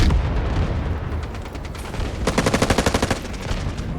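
Gunfire in the video game Delta Force, a steady crackle of shots that breaks into a loud, rapid automatic burst of evenly spaced rounds near the end, with fainter shots continuing after.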